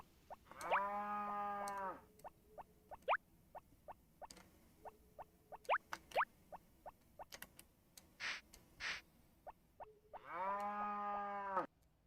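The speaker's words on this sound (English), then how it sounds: "You're just a good cow, Mumu." A cow in the Harvest Moon Back To Nature farming video game gives two drawn-out moos, one near the start and one near the end, with sharp menu clicks and blips scattered between them.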